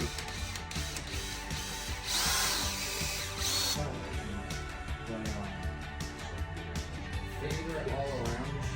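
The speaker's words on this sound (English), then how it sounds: "used an 1/8" drill bit to start the easy out" A power drill with a 1/8-inch bit whirs in sustained bursts, grinding into a broken-off metal bolt on a Chevrolet C10 truck up close, with a brief pause partway and ticking mechanical noise around it.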